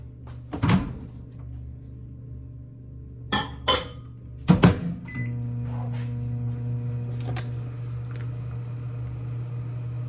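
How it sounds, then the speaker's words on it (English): A microwave oven melting butter: door thunks and clatter, then the oven starts with a steady low hum that continues alone after a couple of sharp knocks. "I'm gonna put that in the microwave."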